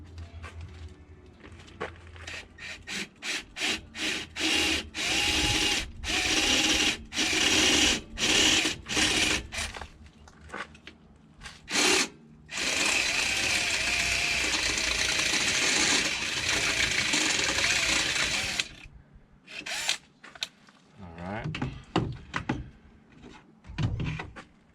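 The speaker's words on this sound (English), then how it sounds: "drill it out to the size I need" Drill boring a hole through a painted metal coolant reservoir mount on a 2006 Tiffin Allegro Bus, repeated short close whirring bursts broken by pauses, then a longer sustained run and a few final bursts.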